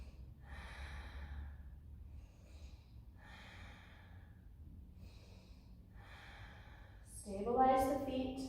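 Breathing during a standing yoga pose on tiptoes: slow, soft, repeated breaths in and out, quiet and close, ending with a louder, sharper exhale.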